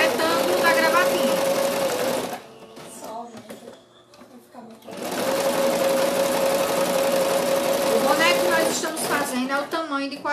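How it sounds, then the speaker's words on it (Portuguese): A sewing machine stitches a cloth doll's tie in a steady, close mechanical whir. It runs for about two seconds, pauses briefly while a voice is faintly heard, then resumes for a longer stretch. "Vou costurar a gravatinha"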